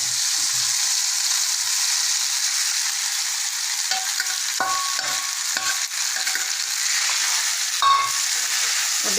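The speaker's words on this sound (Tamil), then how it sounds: "வதங்கினதுக்கப்புறம் நம்ம வேக வச்சுருக்க நூடுல்ஸை இதில் போட்டு" Boiled noodles are tossed with masala in a hot pan, with a steady bright sizzle running throughout and scattered scraping and stirring clatter from the spatula in the middle stretch.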